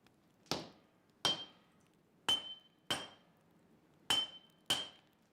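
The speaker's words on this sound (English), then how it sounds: "Heat from the forge and constant hammering flatten the pieces into the building blocks of the new weapon under Gassan's watchful and highly trained" Hammer blows on hot steel while a katana is forged for a traditional Japanese swordsmith, six sharp ringing metallic strikes in an uneven rhythm, each with a brief bright ring, loud and close with quiet gaps between.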